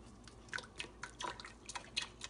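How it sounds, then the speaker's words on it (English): Corn syrup poured into a pot of water on a stovetop for a homemade giant gummy candy, heard as soft, close, irregular wet drips and splashes. "So now you're going to put in your corn syrup."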